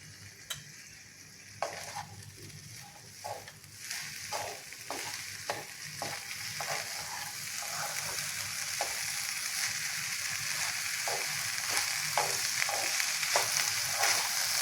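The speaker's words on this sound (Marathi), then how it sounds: "हे चांगलं एकदा परतून घ्यायचं." Spices sizzling in hot oil for bajra khichdi, a steady frying hiss that builds slowly, broken by regular soft scrapes and taps of a spoon stirring the pan, close and fairly quiet, with no talk.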